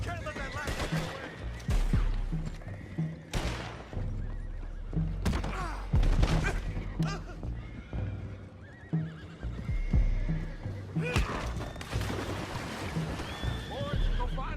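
Horses in Red Dead Redemption II whinny and neigh repeatedly, close and loud, with clip-clopping hooves and bursts of gunfire scattered among them during a tense outdoor fight.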